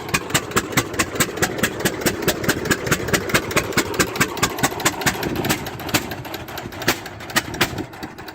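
Small vintage tractor with a transverse engine runs at the 2024 Port Perry Fair, a steady chugging idle with regular sharp beats, close and fairly loud, with no speech.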